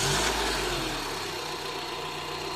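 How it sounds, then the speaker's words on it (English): A 2014 Honda CR-V engine starting up, with a low rumble that settles into a steady, close idle. "So let's see what happens when we turn the car on."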